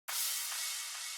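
A single bright, washy crash cymbal hit sustains and slowly fades, heard alone and fairly quiet.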